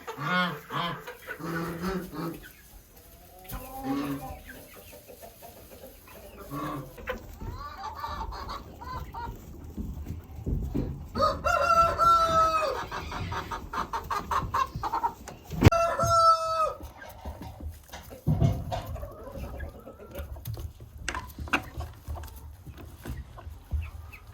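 Chicken flock in a coop in Alaska clucking and crowing throughout, busy overlapping calls near and far, with a person speaking at times.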